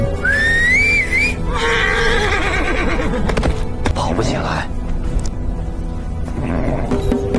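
A black horse neighs and whinnies at the start, followed by hoofbeats and rustling movement, the sounds carried over a steady bed of background music or ambience, fairly loud throughout.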